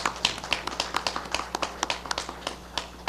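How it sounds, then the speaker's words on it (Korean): Scattered clapping at a literary award ceremony, distinct individual claps in an irregular rhythm from a modest audience, fairly close and unaccompanied by speech. "다시 한번 이근배 선생님께 박수를 부탁드립니다."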